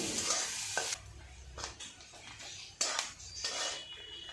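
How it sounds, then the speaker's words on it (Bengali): Chopped onion with a little salt fries in a pan, a soft sizzle broken by scraping stirs and metal clinks of the spatula against the pan, with no voices. "এবার আমি কুচানো পেঁয়াজ দিয়ে দিচ্ছি।"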